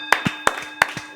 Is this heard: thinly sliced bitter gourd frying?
no